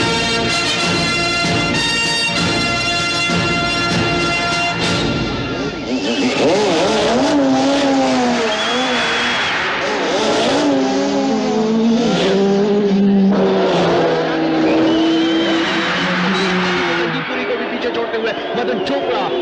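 Race cars accelerating in a film car race, engines revving and whining in rising and falling pitch, loud and close, with music and talk running over the engine roar.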